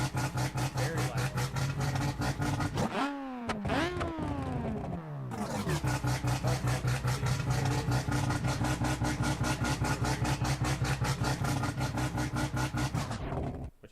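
A Mazda 13B rotary engine idles in BeamNG.drive with a loud, buzzy, rapidly pulsing drone, broken by a brief rev that rises and falls before the steady idle resumes and then cuts out at the end.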